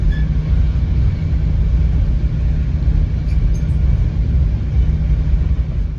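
Steady, loud low rumble of a Caltrain Baby Bullet Stadler KISS electric train heard from inside while riding, a continuous rolling drone with a faint brief high squeal midway.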